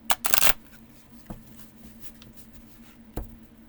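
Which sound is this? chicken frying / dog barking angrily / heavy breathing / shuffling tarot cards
shuffling tarot cards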